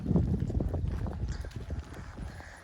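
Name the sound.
horse galloping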